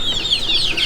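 Bantam chickens, including red mottled and dun mottled hens and a mottled Wyandotte bantam, give a short burst of high, wavering clucks and chirps close by.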